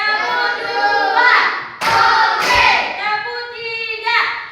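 Children in a classroom clap game give two quick, sharp hand claps, close by, between stretches of a teacher's voice calling out the count.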